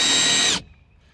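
A power drill mounted on a car window crank whirs loudly at high speed for about half a second, winding the window, then stops abruptly, leaving faint residual noise.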